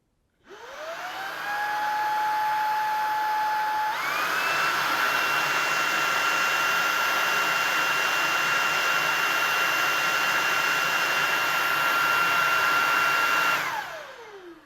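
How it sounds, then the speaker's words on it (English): A Shark Vertex Pro vacuum cleaner runs in boost mode: a loud, close, steady motor whine that rises in pitch after spin-up, steps up again at boost, then winds down at the end. "So that was the Vertex Pro while in its boost mode"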